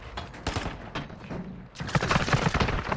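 Dense automatic gunfire and rapid shots from a military shooter video game, loud and continuous bursts filling the moment, intensifying toward the end.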